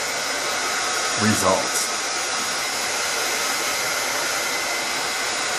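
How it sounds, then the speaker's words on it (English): A heating tool blows a steady, loud whooshing roar while drying sprayed Color Burst pigment, running continuously throughout with a brief spoken word layered over it. "just spritz and sprinkle and then dry it with a heating tool"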